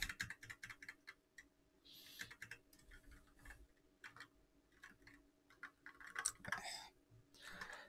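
Rapid, quiet keystrokes clatter on a computer keyboard in irregular bursts of clicks, close and faint, with brief pauses between flurries.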